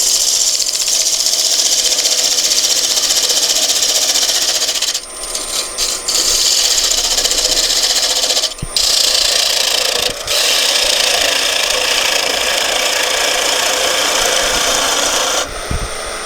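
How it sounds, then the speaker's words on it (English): A wood lathe spins a bowl blank while a gouge takes a peeling cut, producing a loud continuous scraping hiss with a few brief pauses where the tool lifts off. "So the first thing I wanted to do is start just doing a peeling cut"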